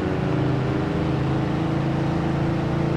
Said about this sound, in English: Enough car sounds.